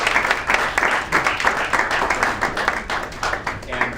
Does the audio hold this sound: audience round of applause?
yes